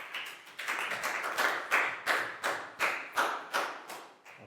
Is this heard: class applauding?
yes